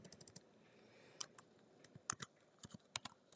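Someone types on an M1 MacBook Air keyboard, giving quiet, close, irregular key clicks in short bursts with small pauses between them.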